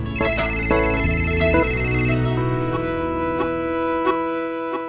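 A phone rings loudly with a bright, repeating electronic melody that fills the first two seconds, then tails off into softer tones.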